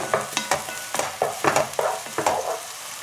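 White onion, garlic and red bell pepper fry in olive oil in a pan, a steady close sizzle broken by several loud scraping stirs at a rough rhythm.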